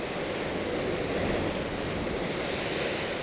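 Ocean waves break and spray against a rock on the Madeira coast, a dense, continuous roar of surf with a wind-like hiss, steady and close throughout.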